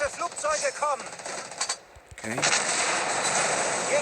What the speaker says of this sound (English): We can get one more salvo off.